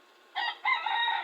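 A chicken gives a loud, close, strained cry in two quick bursts, a short note then a longer drawn-out call, heard alone with no talking.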